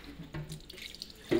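Tap water runs into a kitchen sink while utensils are rinsed during spring roll preparation, a faint, brief splashing with a few drips and a louder gush at the end.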